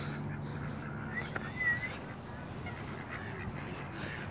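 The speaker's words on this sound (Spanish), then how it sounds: "vamos a ver los patos allá" Ducks quack faintly at a distance amid steady outdoor background noise, with a brief louder call partway through.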